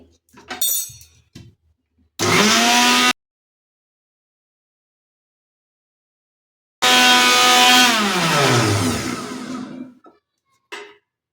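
A kitchen mixer grinder crushing kumkuma stone in two short bursts, a brief whir, then a longer loud grind whose pitch sinks as the motor winds down, separated by silence with faint clatter around.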